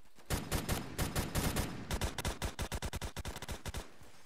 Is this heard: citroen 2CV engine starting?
no